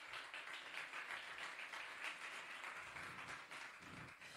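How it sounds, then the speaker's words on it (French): A conference audience at HEC applauds a speaker on energy sobriety, a steady wash of many hands clapping that sounds faint and distant and holds evenly for a few seconds without any voices. "Vous pouvez l'applaudir."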